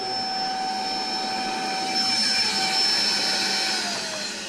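A vacuum cleaner keeps running after tipping over, a loud steady whine with a sustained high tone and broad rushing airflow, close and continuous.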